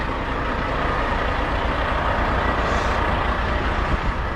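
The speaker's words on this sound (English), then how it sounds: "I got the diesel truck" A diesel freight truck drives at a steady, loud, close rumble throughout, with broad continuous engine and road noise and no talking.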